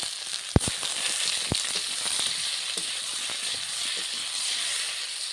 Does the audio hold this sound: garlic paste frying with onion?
yes